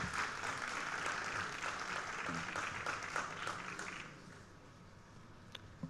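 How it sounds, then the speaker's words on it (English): An audience at a formal ceremony gives a big round of applause, steady dense clapping that thins out and fades after about four seconds, leaving a few scattered claps. "Gentlemen, please give a huge round of applause for them."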